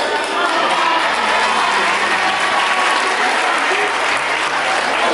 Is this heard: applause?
yes